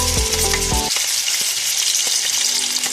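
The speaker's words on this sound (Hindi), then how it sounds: "अब हम अदरक लहसुन का पेस्ट डालेंगे।" Ginger garlic paste sizzles and crackles in hot oil in a pan, a loud, steady frying hiss up close, with a brief tonal clatter at the start and the occasional stirring scrape.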